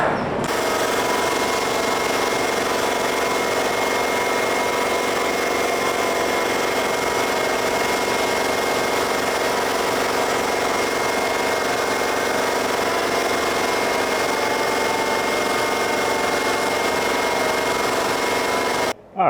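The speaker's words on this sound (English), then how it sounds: "We're going to have this vacuum getting the dust." A shop vacuum drones steadily and loudly without pause, pulling up sanding dust from a jet ski hull under repair, with a faint mechanical rattle running beneath the constant roar.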